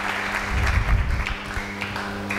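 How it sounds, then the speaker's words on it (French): Church congregation applauding during a sermon, a dense, steady wash of clapping with a low rumble of crowd noise, moderately loud and continuous through the moment. "Acclamons très fort pour ce Dieu"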